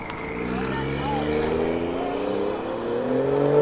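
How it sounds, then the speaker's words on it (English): Several cars leaving a car meet, their engines rising in pitch as they accelerate away, with overlapping exhaust tones that swell toward the end and faint voices in the background. "Got all these cars leaving"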